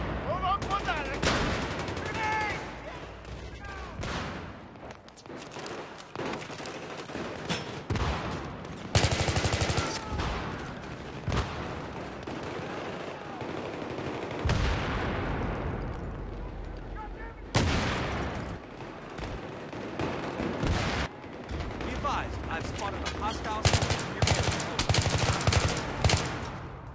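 Dense Battlefield 3 combat gunfire: repeated loud bursts and rattling volleys keep coming through the whole stretch, with shouted voices mixed in among the shots.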